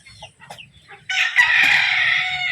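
A silkie chicken clucks softly at first, then breaks into a loud, sustained call that carries on nearby.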